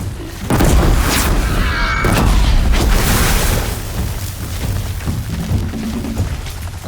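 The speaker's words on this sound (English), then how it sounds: "we're gonna throw a bomb over there" A bomb bursts in Horizon Zero Dawn with a loud, close boom, then a rumbling, crackling roar that slowly fades over several seconds, with no talking.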